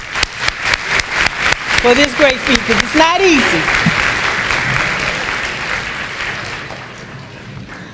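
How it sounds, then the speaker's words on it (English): At a Blue Ribbon recognition ceremony for a French immersion school, an audience applauds schoolchildren. Crisp, rhythmic unison claps swell into loud, full applause that slowly fades, with a voice speaking over it. "we need to applaud these young boys and girls for this"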